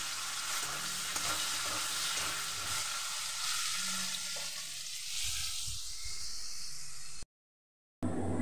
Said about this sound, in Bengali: আলুগুলোকে দিয়েও বেশ ভালো করে ভেজে নিতে হবে